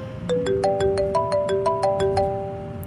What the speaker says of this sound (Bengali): দারোগাবাবুর ফোনটা বেজে উঠল।